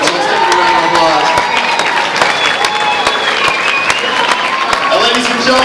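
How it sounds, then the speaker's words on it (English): Loud crowd applause and cheering at a pro Muay Thai fight event, a thick continuous roar of clapping with scattered shouts and whistles, while voices talk over it. "So let's give it a round of applause."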